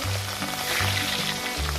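Catla fish pieces rubbed with salt and turmeric fry in hot mustard oil in a kadai, a steady bright sizzle with a low hum beneath.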